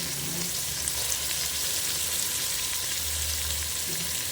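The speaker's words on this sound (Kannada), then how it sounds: "ಇದು ಕೈಮಾ ಉಂಡೆ ಎಲ್ಲ ಹಿಂಗೆ ಒಗ್ಗರಣೆಗೆ ಹಾಕ್ತೀನಿ" Loud, continuous sizzle of minced-meat balls frying in hot tempering oil, a steady crackling hiss with no talking.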